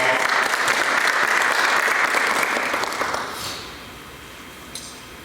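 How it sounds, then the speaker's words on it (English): A gala audience in Fort Pierce, Florida, at a Father of the Year 2025 event gives a loud, dense round of applause that holds steady and then dies away into a quiet room. "another round of applause."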